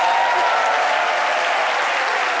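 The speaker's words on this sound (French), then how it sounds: "retrouver notre belle Alissa Zena, que je vous demande d'applaudir très fort." Steady, dense applause from a studio audience on a French midday television talk show, loud and continuous throughout with no voices on top.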